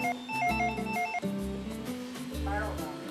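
A telephone ringing in a television cooking studio, a repeating melodic electronic ringtone pattern in short bursts, fairly close, with voices heard alongside it.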